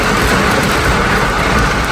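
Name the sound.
heavy rain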